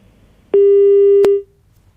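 A single long steady electronic busy tone on a telephone line after a call is cut off, clean and alone against faint background hiss.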